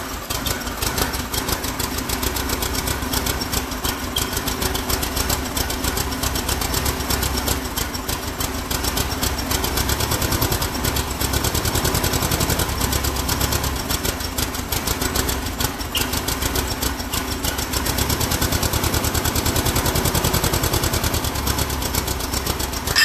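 An engine idles on first start-up with fuel in only one of its two carburetors, a loud continuous uneven chugging with rapid knocking pulses, close and steady throughout, with no voices.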